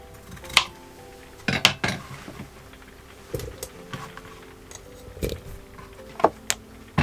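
Chopped potato pieces for a camping turkey vegetable stew drop into a crock pot with scattered clinks, knocks and thuds spread over several seconds, close and fairly sharp with quiet gaps between them.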